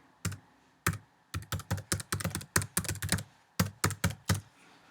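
Keys clack on a computer keyboard as a link is typed, a close, irregular burst of about twenty sharp taps with brief pauses.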